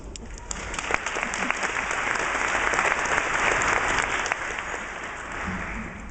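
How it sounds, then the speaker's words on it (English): Graduates and guests applaud at a university dental school graduation ceremony, with a broad, sustained wave of clapping from a large crowd filling the hall for several seconds. "Please give yourselves a round of applause."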